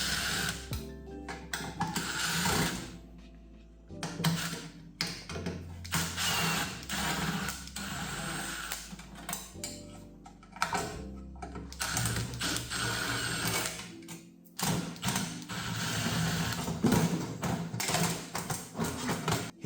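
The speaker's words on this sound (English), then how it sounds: "we'll go ahead and remove all these screws at the back here" Screws being removed from the back panel of a scrap microwave oven, heard as close ratcheting, clicking and clattering mechanical sounds in irregular bursts throughout, with no talking.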